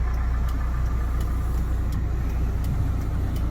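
A Kia Bongo 3 truck engine idles steadily just after starting, a constant low rumble heard from inside the cab with no other sounds.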